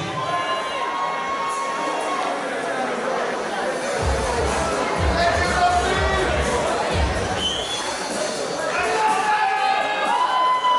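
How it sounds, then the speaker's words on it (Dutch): Loud crowd at a ring fight event cheering, clapping and shouting continuously for two fighters, with dense babble and whoops swelling throughout. "er is natuurlijk een keihard applaus voor de beide vechters Janos en Rodney"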